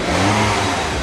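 A Toyota RAV4 engine revs loudly right after starting, following cleaning of its relay box, fuses and electrical connectors, a close, steady, throaty roar with rising RPM throughout the brief moment.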